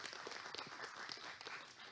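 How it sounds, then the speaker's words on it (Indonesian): Church congregation applauding at a New Year 2023 service, a faint, steady patter of many hands clapping together for about two seconds. "Tepuk tangan yuk buat Tuhan Yesus."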